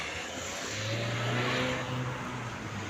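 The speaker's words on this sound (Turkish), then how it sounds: "Hızlı geçiyorum. Araba geliyor." A car passes by on a road close to a person walking outdoors, its engine and tyre noise swelling to a peak midway and easing off over about three seconds, with no talk.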